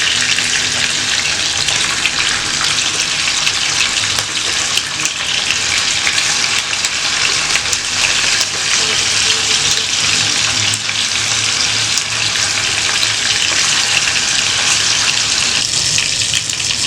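Spicy pepper kola meatballs frying in hot oil on a medium flame give a loud, continuous sizzle and crackle that runs unbroken for the whole stretch, with no voices over it.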